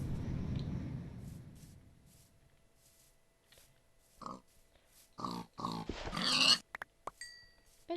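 Pigs grunting in a video game, a low rumbling noise fading at the start, then a cluster of short close grunts and squeals bunched toward the end.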